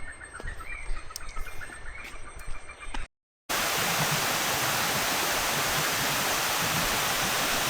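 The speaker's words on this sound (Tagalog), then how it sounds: "Naririnig mo na yung tubig?" A waterfall in Langkawi roars as a loud, steady wash of rushing water after a brief cut. Before the cut there is quieter outdoor ambience with birds chirping.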